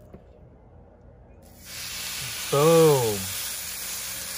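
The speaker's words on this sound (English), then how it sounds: "Oh yeah, it's ready to sizzle." Snakehead fish, seasoned only with salt and pepper and cooked without oil, sizzles in a hot pan: a steady broadband hiss rises and holds, with a brief voice over it midway.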